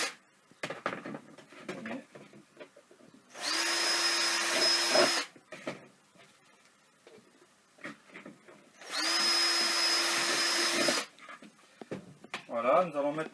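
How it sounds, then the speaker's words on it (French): A power drill boring through plastic plant pot saucers in two sustained whining bursts of about two seconds each, close and loud, with someone talking between them and some handling clatter. "Maintenant on va percer les sous-pots."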